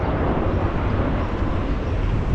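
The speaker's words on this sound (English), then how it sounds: "Planes landing overhead." An airplane passes overhead while landing near Geneva, a broad, loud, steady roar with no breaks across the short stretch.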